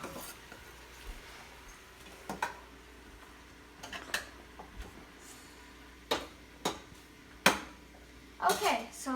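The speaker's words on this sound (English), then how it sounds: "I'm gonna mix it so that the salt gets nice into the vegetables" Salted vegetables being tossed and stirred in a bowl, sparse clinks and scrapes of utensils against the dish at irregular intervals over a quiet room, with occasional talk.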